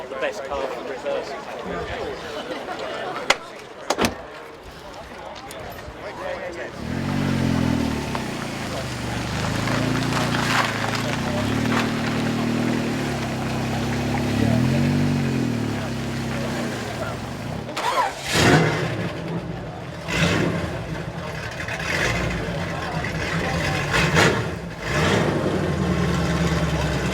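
A classic car's engine running while it reverses at a paddock show, with a steady low idling rumble and occasional revs under a voice talking over a loudspeaker throughout.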